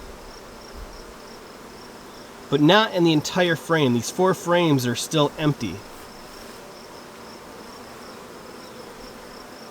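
Bees hum in an open beehive, a faint, steady buzzing that runs throughout. Someone speaks over it for a few seconds partway through.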